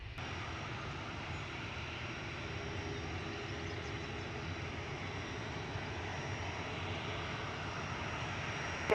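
Aircraft engines roar steadily as a plane takes off from runway 23 left at Manchester Airport, a broad continuous rumble, distant and fairly faint, without any voices.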